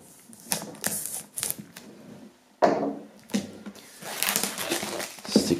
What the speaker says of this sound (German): Dann würde ich sagen, holen wir das Ganze mal aus der Folie.